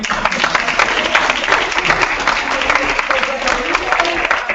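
Audience at a TEDx event clapping after a talk, a loud, continuous wash of applause from a crowd with murmured voices mixed in.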